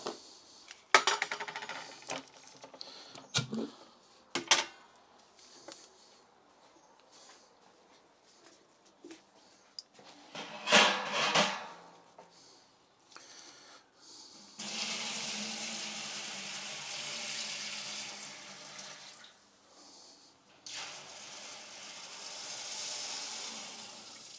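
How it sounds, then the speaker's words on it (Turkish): Dark, soaked liquid being poured into a cauldron for homemade rakı: sporadic clinks and handling knocks first, then a long, steady rushing pour that continues for about ten seconds, close by with no talking. "Şimdi bunu kazanımızın içine dökeceğim."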